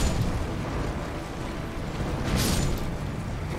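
Enemies bursting in explosions in the Elden Ring video game, a dense, continuous rumbling roar of blasts with a brighter burst near the end, loud and without talk.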